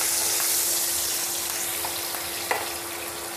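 Onion rings sauté in a pan for bistek tagalog, giving a steady soft sizzle with a constant electrical hum and a few light clicks of stirring.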